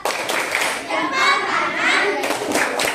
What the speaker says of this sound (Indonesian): Tepuk mantap buat kelompok hari Jumat.